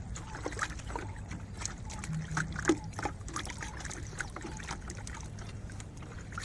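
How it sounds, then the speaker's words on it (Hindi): Water trickles and splashes as a soil sample treated with waste decomposer is rinsed, a steady close wash with small sloshing accents and no speech. "अब हम फिर इसको दोबारा धोएंगे ताकि अच्छे से ये साफ हो जाए।"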